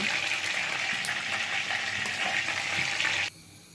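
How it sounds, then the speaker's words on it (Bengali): Pieces of roast meat fry steadily in hot oil in a pan, giving a loud, dense sizzle that suddenly drops to a quieter hiss near the end. "ভেজে নিচ্ছি সবগুলো রোস্টের মাংসগুলো ভেজে নিলাম"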